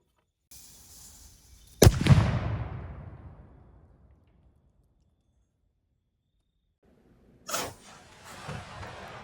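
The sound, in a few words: black powder cannon firing giant domed diabolo pellet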